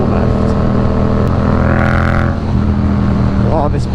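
A Yamaha MT-07 motorcycle under way, its engine roaring loud and steady throughout with a rising whine as the rider accelerates, heard up close alongside wind rush.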